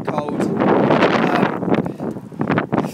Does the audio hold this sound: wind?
yes